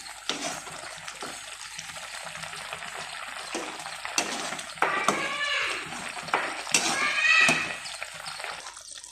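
Fried bread halwa being stirred in a pan, with repeated scraping and clattering strokes over a soft background sizzle, growing busier and louder toward the end; faint talk sits underneath at times.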